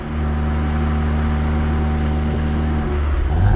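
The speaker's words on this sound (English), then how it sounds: "the only noise I can hear is the R600 intake we've fitted" Steady engine drone from a Mk8 VW Golf R with an R600 intake, a deep hum and a faint intake whoosh, continuous and close, rising slightly at the end.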